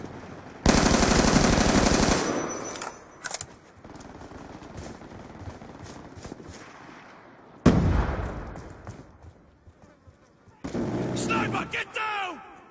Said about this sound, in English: Be advised, hostile death machine spinning up.